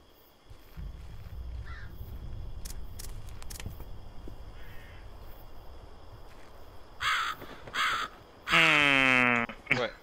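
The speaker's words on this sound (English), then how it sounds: "That bird scared the shit out of me." Crows cawing in a horror video game, a few harsh caws bursting out loud near the end over a low rumbling ambient bed, after a quieter stretch with faint scattered noises.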